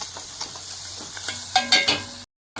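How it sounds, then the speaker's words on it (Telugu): Masala and tomato paste being stirred into fried onions in a pan for restaurant-style cashew paneer curry, giving soft scraping and a low sizzle that grows into a few louder clatters near the end before cutting off. "మసాలా పేస్ట్ వేసేసుకొని బాగా కలిపేసుకోవాలి."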